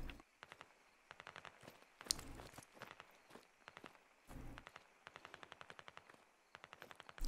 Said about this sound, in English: I think these are the Russians shooting back?